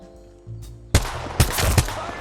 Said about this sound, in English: I got one shot on the Bangalore